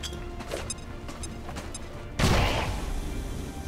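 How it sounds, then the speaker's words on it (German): A gas bomb grenade goes off in the video game XCOM 2, a sudden loud burst with a short hissing tail that lands after a stretch of quiet game ambience. "Und einmal eine Gasbombe."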